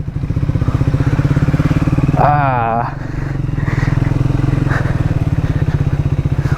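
A motorcycle engine drones close and steady while riding through a sanctuary area, its throbbing exhaust note continuous, with a brief shift and a passing whine midway.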